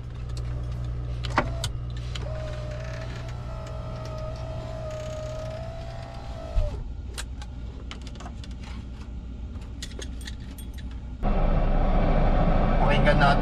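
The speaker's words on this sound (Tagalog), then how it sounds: "I-start natin ang truck." A truck engine idles in a low steady rumble, a brief whine rising near the middle, then at the end the engine note jumps louder and rougher as it revs.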